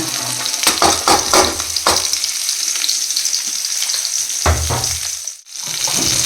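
Vegetables tipped into hot oil with roasted urad dal, frying with a bright steady sizzle while a spatula scrapes and stirs in quick bursts, loud and close, no talking.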